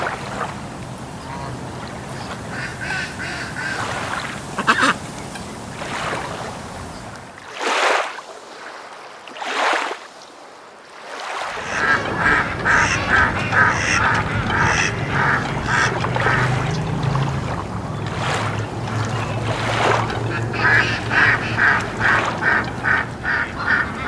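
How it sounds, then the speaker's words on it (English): Ducks quack repeatedly over a water scene, with a boat also audible. Several bursts of calling come at a moderate distance, broken by a short silent gap, then resume steadily. "For duck."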